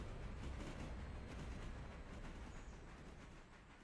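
A train rolls along in the Railroader game, a faint, continuous rumbling roar that stays steady and slowly eases, with no talking over it.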